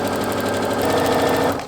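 Sewing machine stitching fabric while sewing triangles on a roll, a close, steady rapid mechanical whir with a fast regular needle pulse, running alone throughout.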